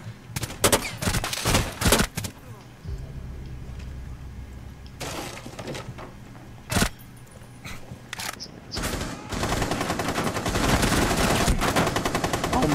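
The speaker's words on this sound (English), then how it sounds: "Can you stop shooting your gun, sir?" Gunfire in Rainbow Six Siege: sharp bursts of shots and short automatic volleys, some very close and loud, with quieter stretches between and a dense continuous rattle toward the end.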